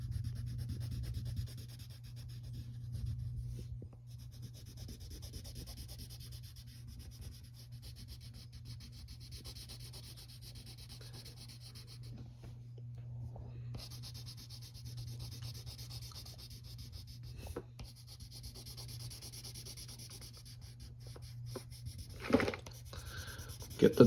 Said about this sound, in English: we can take the side of our pencil and color in her hair